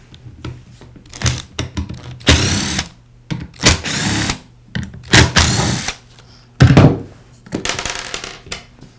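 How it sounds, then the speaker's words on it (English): A cordless drill or screwdriver whirs in short bursts to back out the three screws holding the pad onto a Porter Cable sander, with quiet clicks and handling noises in the pauses between runs. "I'll begin by removing the 3 screws that secure the sander pad to the sander."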